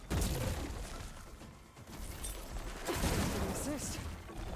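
Gunfire in the Horizon Forbidden West video game, with repeated sharp shots and bursts mixed with clatter and effects, loud and close throughout.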